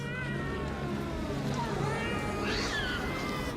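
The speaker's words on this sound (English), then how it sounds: "I hear cats." Cats meow in the Alone in the Dark video game, several drawn-out wavering cries over a dark, droning background hum, fairly close and clear.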